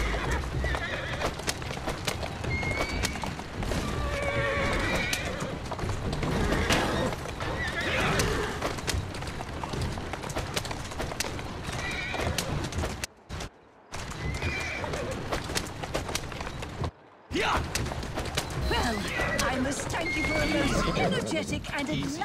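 In a video game, Assassin's Creed Syndicate, a horse whinnies loudly while hooves clip-clop continuously, with voices talking over the busy scene and two brief moments of silence.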